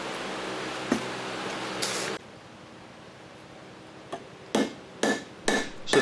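Hammer blows on farrier rasp tool steel being cut for a knife: one sharp strike, a scraping burst, then a quiet pause before a run of four or five loud ringing metallic hits, close up and alone.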